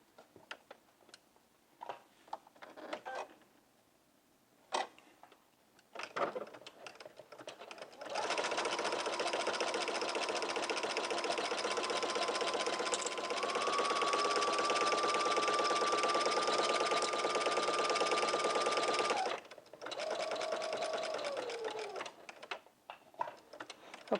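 Zigzag stitching on a jumpsuit runs through a sewing machine in one long, steady, close buzz of about eleven seconds, with a brief pause and short restart, preceded by a few clicks and taps.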